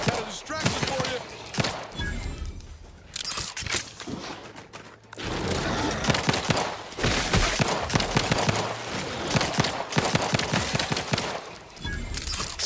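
Rapid, fast-cycling gunfire from a high rate-of-fire gun in The Outer Worlds 2 comes in dense bursts over most of the stretch, loud and close, with short pauses between volleys.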